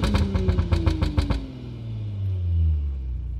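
Audi B9 S4 with a catless downpipe and Stage 2 tune gives a quick series of about eight loud, sharp throttle blips up front, then drops into a deep, steady idle rumble.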